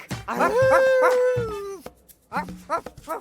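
A cartoon dog in a bark bingo game gives a long drawn-out howl followed by a few shorter yipping barks, loud and close with no other voices.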